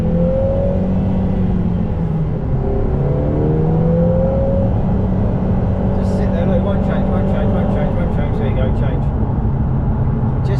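A Lotus Emira with a four-cylinder engine and automatic gearbox holds second gear while driving, giving a steady engine drone with shifting tonal lines throughout, joined by some higher-pitched mechanical noise in the second half.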